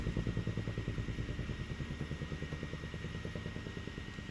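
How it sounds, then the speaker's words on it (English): A helicopter's rapid, rhythmic rotor thud drones steadily, fairly close, fading only slightly over the span. "I've got my window open, so that would be a helicopter"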